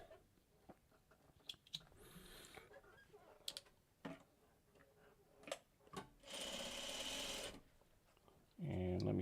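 A sewing machine stitching off a piece of scrap fabric during Dresden block quilting, with a couple of short runs standing out from quieter handling noise and a brief burst near the end.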